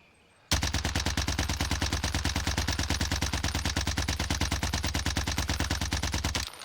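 Automatic gunfire from a shooter video game during a recoil test: one unbroken burst of about six seconds of loud, rapid, evenly spaced shots that stops abruptly, with no talking.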